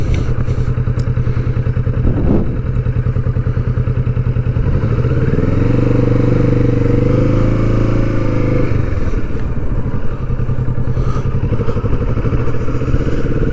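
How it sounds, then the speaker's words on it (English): A Kawasaki Vulcan S motorcycle pottering along at low revs, its steady engine drone continuous and close throughout, with a brief thump near the start and a rising and falling tone in the middle as the rider shifts pace. "you can just potter along at your own pace"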